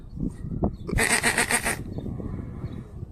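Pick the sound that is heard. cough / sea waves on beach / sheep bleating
sheep bleating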